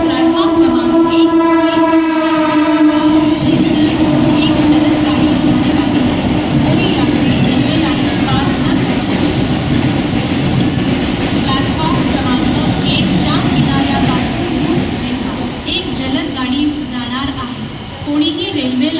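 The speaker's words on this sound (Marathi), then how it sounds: "एक जलद गाड़ी जाने वाली है." A fast local train rushes past a Mumbai railway platform, sounding its horn at the start and then roaring and clattering steadily for a long stretch as the cars go by, loud and close.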